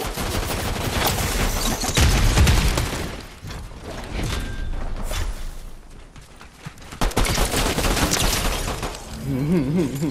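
Rapid video game gunfire in a hilltop firefight, sustained bursts and crackling volleys filling the clip with dense, loud shots and a brief lull midway.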